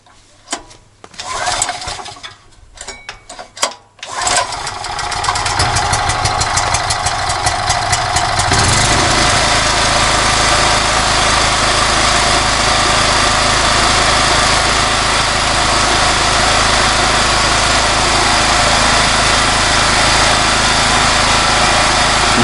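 A REDVERG RD-G3900N petrol generator is pulled over with a couple of starter tugs, then catches and settles into a loud, steady, close running drone that continues unbroken.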